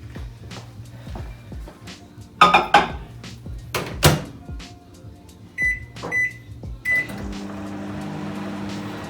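A kitchen microwave oven runs while lactose-free quick mozzarella is made from real milk: a low steady hum broken by clunks, dish clatter and several short electronic beeps.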